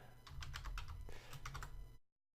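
Fast bursts of clicky keystrokes on a computer keyboard while entering code in R Studio, close and crisp, about two seconds of steady typing that ends abruptly in silence.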